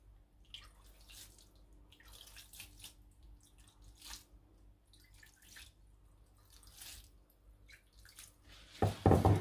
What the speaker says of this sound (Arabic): غادي نجيب واحد شوية ديال الماء وغادي نرشها مزيان